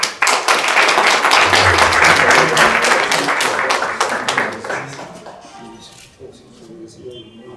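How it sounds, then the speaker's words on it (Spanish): Audience at an engineering society event breaking into loud, sustained applause, many hands clapping densely together, then thinning out into scattered claps and murmuring voices as it fades. "Un fuerte aplauso, por favor."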